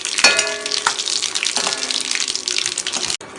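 Mustard seeds, cumin and dried chillies sizzle in hot sesame oil in a pan, a loud continuous crackling hiss with sharp pops scattered through it, close to the stove, then a sudden clatter near the end.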